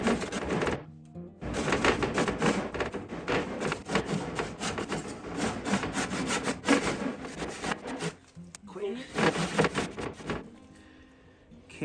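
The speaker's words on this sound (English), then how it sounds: "And now we cut out the notches." A handsaw cuts notches into wood for a boat's sheer clamp, giving rapid rasping back-and-forth strokes that run almost continuously, with a short pause near the start and another near the end.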